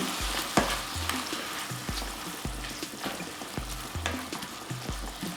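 Chicken frying in a pan with sweet chili sauce gives a bubbling sizzle broken by a regular series of low thumping stir or spatula strokes about twice a second, close and fairly quiet, with no talk.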